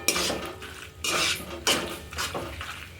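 Pasta tossed with ketchup in a pan, a utensil scraping and clinking against the metal in several uneven bursts, close and fairly loud with no voices.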